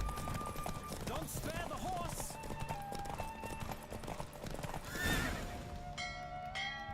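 A horse whinnies loudly amid galloping hoofbeats during a race in The Witcher 3: Wild Hunt, with crowd noise and a brief bell-like chime near the end.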